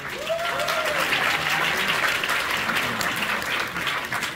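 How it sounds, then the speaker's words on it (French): Steady audience applause at a film festival closing ceremony, thanking the organizers; dense continuous clapping throughout with a faint whistle-like tone near the start. "On peut applaudir encore une fois s'il vous plaît."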